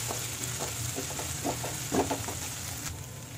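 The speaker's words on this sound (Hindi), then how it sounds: "पका लेंगे इसे थोड़ा सा मीडियम फ्लेम पे, तब तक जब तक अदरक अच्छे से पक नहीं जाती।" Chopped ginger and chillies fry in a pan over a medium flame, making a soft, steady sizzle with light stirring scrapes and small crackles, close by but quiet.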